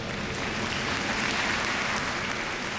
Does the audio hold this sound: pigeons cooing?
no